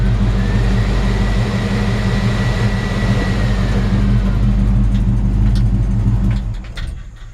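Air conditioning in a 1965 Chevrolet C-10 pickup runs with a steady, close, humming drone and layered low tones, then fades and drops away near the end.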